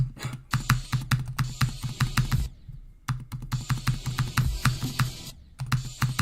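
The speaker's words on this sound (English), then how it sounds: "Why is it clicking so loud? Because the mic is close to the keyboard." Computer keyboard keys click loudly right beside a close microphone, rapid typing in bursts with a brief pause near the middle, crisp and near, no voice.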